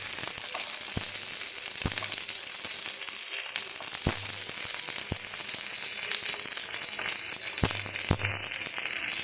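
Food fries in a pan with a steady, loud sizzle, crackling throughout, and a few sharp utensil taps or clinks strike at intervals; part of a Kerala-style chilli and shallot preparation, no voices.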